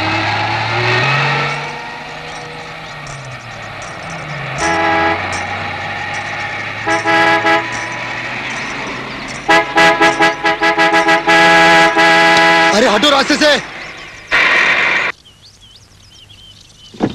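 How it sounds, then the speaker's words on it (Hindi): Car horn honking repeatedly in an Indian thriller movie scene, loud toots in bursts and rapid volleys over vehicle engine noise, growing more insistent toward the end. "इतनी देर से हॉर्न बजा रहा हूं, सुनाई नहीं देता?"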